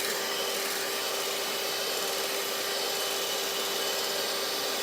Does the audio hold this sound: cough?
no